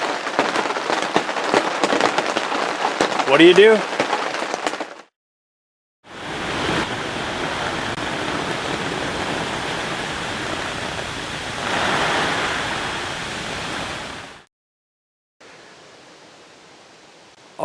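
Heavy pouring rain drums steadily outside during a night thunderstorm, a loud broadband wash in two long stretches separated by brief silences, with a short spoken question near the start.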